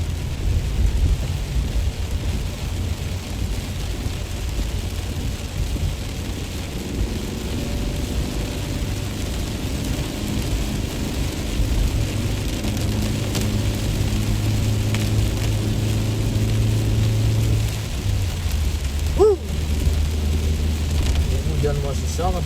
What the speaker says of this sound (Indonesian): Hujan masih sangat deras, makin deras.